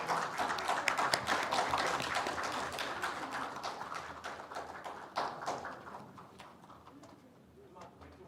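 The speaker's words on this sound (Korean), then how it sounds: "앞으로도 잘 부탁드린다는 의미에서 큰 박수 한번 부탁드리겠습니다" Applause at a Korean journalists' association ceremony marking its 2000th issue, a crowd clapping densely and steadily, gradually thinning and fading toward the end.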